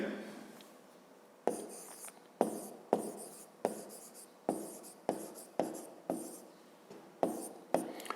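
A pen scratches across paper in a fifth-grade maths exercise, about a dozen quick rhythmic strokes close up, each starting sharply and trailing off, with a soft voice faintly underneath.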